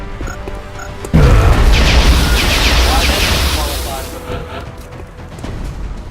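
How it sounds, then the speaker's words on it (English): A grenade goes off in the video game XCOM with a sudden loud boom about a second in, followed by a long rumbling, crackling roar that slowly fades, with busy game sounds before and after. "They're starting to lose ground. Another grenade."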